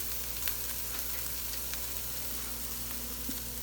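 Garlic frying in a pan with translucent onions and carrots for fried rice, a steady low sizzle running throughout with faint scattered crackles and no talking.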